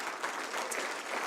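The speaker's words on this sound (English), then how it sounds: "If I could get a round of applause for them." Applause from a summit audience for the event sponsors, a brief burst of steady crowd clapping, moderately loud and even.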